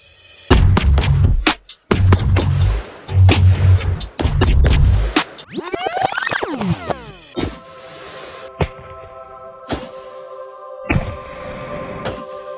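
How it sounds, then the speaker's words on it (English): Loud 12 gauge shotgun blasts hit watermelons outdoors, a sequence of sharp booming reports with splattering impacts and debris, followed by a sweeping noise and quieter clattering and tonal rattles. "We're gonna make some watermelons blow up."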